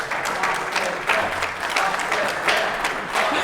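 Audience applause during a conference tech talk, a dense, sustained burst of clapping from a crowd filling the whole moment at moderate loudness.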